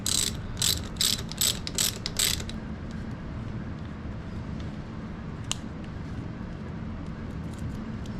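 A ratchet tightens the carburetor boot clamp on a CRF150F motorcycle in five quick, loud clicking bursts close up, followed by a quieter background hum with one faint click.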